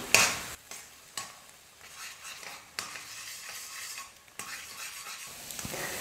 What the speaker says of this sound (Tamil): முட்டையை நல்லா பொடி மாஸ் மாதிரி வர அளவுக்கு நல்லா வறுத்துக்கலாம்.